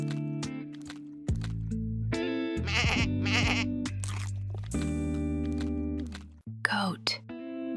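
Goat bleats in several loud, wavering cries one after another, close and clear, with a short rustle near the end.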